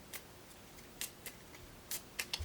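Cards for a Cthulhu Death May Die board game being shuffled into a pile, heard as a handful of quiet, sharp riffling snaps spaced irregularly over faint background hush.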